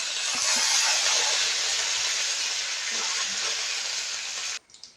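Mustard seeds and curry leaves hit hot oil for a tempering, giving a loud, close, continuous sizzling hiss that carries on steadily for several seconds before cutting off abruptly.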